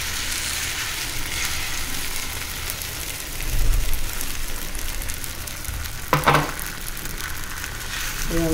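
Beaten egg batter for a bread omelette fries on a flat pan, giving a steady close sizzle with a few soft scraping bumps midway and near the end.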